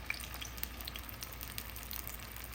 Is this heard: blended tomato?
yes